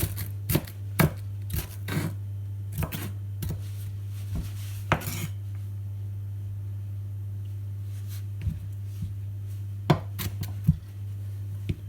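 Onions are chopped with a knife on a board, irregular sharp chops in small clusters separated by pauses, heard close over a steady low hum.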